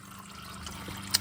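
Transmission fluid from the pan of a 2006 Chrysler Town & Country pours out in a steady, close, hissing trickle, with a brief splash near the end.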